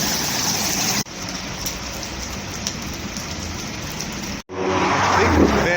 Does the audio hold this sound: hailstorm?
yes